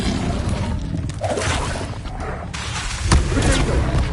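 Confringo, an explosion spell cast in the video game Hogwarts Legacy, goes off as a series of sharp blasting booms with a shattering crackle and whooshing bursts, loud and close.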